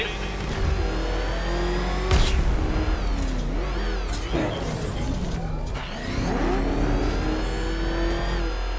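The Batmobile's engine revs and roars in Batman: Arkham Knight, a loud, continuous motor drone that surges in bursts while a voice talks over it.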